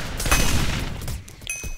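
Rapid game gunfire from a turret in Hypixel Galaxy Wars, a Minecraft game, a dense close burst of repeated shots running throughout.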